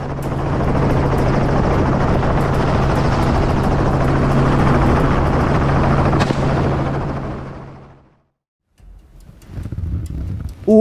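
A helicopter flies overhead during a wild boar hunt, its dense, loud rotor roar holding steady for several seconds before fading out, followed by a short silence and then fainter scattered noises.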